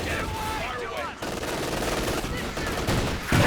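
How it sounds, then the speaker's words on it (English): Machine guns fire continuously in the real-time strategy game Company of Heroes 2, with dense rattling bursts layered over general battle noise throughout. "a little bit closer so its machine guns are firing as well"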